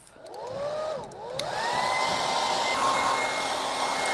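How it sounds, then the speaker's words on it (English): A hair dryer blows loudly and close, drying paint on a farmhouse-style stenciled craft piece, its whine dipping briefly in pitch before holding a steady airflow drone. "We'll just dry that off."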